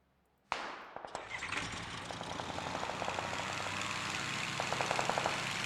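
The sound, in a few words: gunshots in PUBG video game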